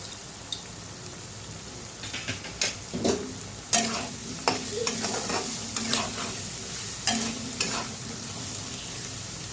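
Potol, potato and paneer frying in a pan with tomato paste, stirred with a spatula: a steady sizzle under a run of clustered scraping stirs, close and moderately loud, no voices.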